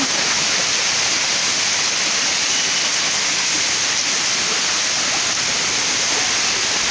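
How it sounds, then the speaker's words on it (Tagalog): A loud, unbroken wash of heavy rain hisses and roars continuously at close range, with no voices. "Lakas ng ulan."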